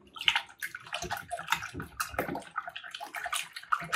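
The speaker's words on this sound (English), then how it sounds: "We're just going to mix this all together." Butter, homemade vanilla, eggs and milk are stirred together in a bowl for a caramel praline bread pudding, making soft, wet sloshing and squelching in an uneven rhythm, close and fairly quiet, with no talking.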